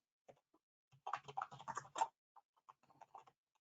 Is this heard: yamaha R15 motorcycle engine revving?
no